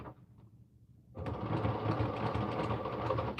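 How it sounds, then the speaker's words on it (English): After a second of quiet handling, a sewing machine starts up nearby and runs in a loud, steady whir while stitching a pillow case with French seams. "I'm sewing."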